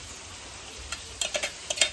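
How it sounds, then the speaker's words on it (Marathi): Onion and tomato frying in oil over a wood-fired home stove, a soft continuous sizzle punctuated by several quick clinks and scrapes of a spoon against the pan. "म्हणजे फ्राय करून घ्यायचं तेलामध्ये."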